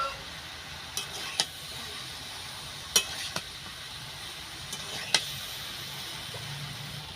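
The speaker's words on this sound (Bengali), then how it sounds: "বেসন দিচ্ছি, দিয়ে আস্তে আস্তে নাড়তে থাকবো" A spoon stirs gram flour (besan) into shredded cabbage in a pan, giving faint scraping and a soft frying hiss, with a few sharp clinks against the pan spread through the stretch.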